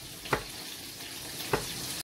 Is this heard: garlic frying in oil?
yes